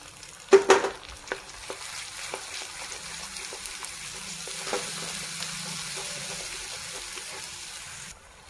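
Ginger, garlic and coriander paste dropped into a pan of browned onions for palak paneer, giving a sharp burst of sizzle and a clatter of stirring, then a steady close frying hiss that continues alone.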